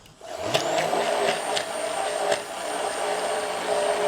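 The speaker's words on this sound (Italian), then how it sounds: "E emulsionate, fate questo movimento con il frullatore a immersione." An immersion blender whirs steadily while emulsifying a pea cream with ice, a continuous close motor drone with a high whine and a few brief clicks as the blade shifts in the mixture.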